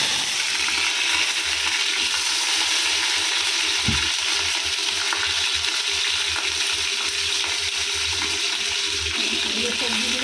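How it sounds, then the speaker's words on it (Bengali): Nigella seeds and chili frying in hot oil, a steady close sizzle running throughout with a single small clink partway through. "লাল লাল করে একটু ভেজে নিই"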